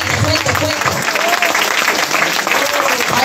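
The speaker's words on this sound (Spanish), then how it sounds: "Y yo quiero, hermanos, que le demos un fuerte aplauso a esta congregación." Loud, sustained applause from a church congregation at a worship service, dense clapping throughout with cheering voices and a speaker's voice calling out over it.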